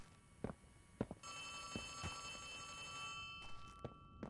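A telephone rings in the Poppy Playtime Chapter 3 video game, a steady electronic ringing tone under footsteps and thuds, faint and continuous.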